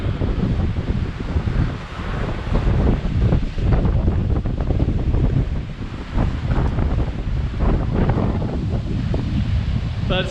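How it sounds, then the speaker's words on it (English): Big ocean waves surge and crash along a rocky seaside road in Coloane, Macau, during typhoon weather, with heavy gusting wind buffeting the microphone in a loud, continuous roar. "Some big waves."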